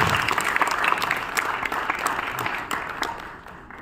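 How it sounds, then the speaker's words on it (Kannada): Audience applause at a Kannada film trailer launch in a Bengaluru hotel ballroom, welcoming guests onto the stage; dense, steady clapping from a crowd throughout, easing slightly toward the end. "ಚಪ್ಪಾಳೆ ಮೂಲಕ ವೇದಿಕೆ ಮೇಲೆ ಬರಮಾಡಿಕೊಳ್ಳೋಣ."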